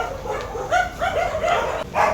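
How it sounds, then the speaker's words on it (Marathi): Dogs kept indoors at an animal shelter bark and yip in a quick series of mid-pitched calls, fairly close and loud, with a faint whimpering tone between the barks. "हे कुत्रे आहेत आतमध्ये"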